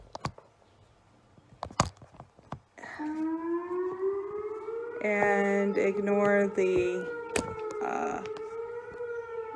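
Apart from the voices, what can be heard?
storm siren being tested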